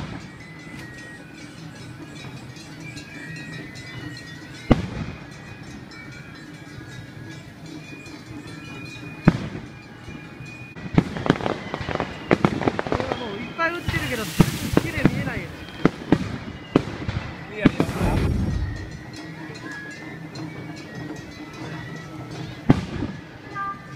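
Fireworks at a summer festival in a Saitama town, sharp bangs and crackling bursts scattered through the scene, a dense cluster of crackle building in the middle, heard under steady crowd noise and people talking.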